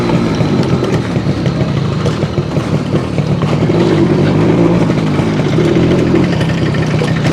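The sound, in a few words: Suzuki AX100 motorcycle engine stuttering with choke on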